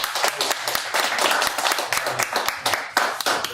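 A church congregation claps together, a dense, steady wash of applause with sharp individual hand claps running throughout a few seconds at moderate loudness.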